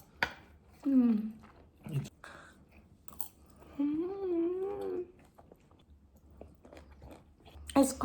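Someone chews a crunchy home-cooked medium-rare steak with pepper sauce, producing a few close, soft bursts of chewing and biting between quiet pauses, with occasional murmured vocal sounds in between.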